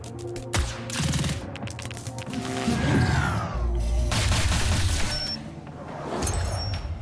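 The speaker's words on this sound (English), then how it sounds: "And have these bloody tanks shooting at me relentlessly." Tanks and other weapons firing in a tactical war game, Reverse Collapse, with repeated loud bursts, crashes and booming impacts piling up over several seconds amid a dense battle mix.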